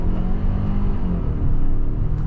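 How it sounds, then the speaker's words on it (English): A 2026 Hyundai Palisade Calligraphy hybrid SUV sets off and accelerates, heard from inside the cabin as a steady, close engine and road hum that swells slightly as it gathers speed. "setting off now in the hybrid Palisade"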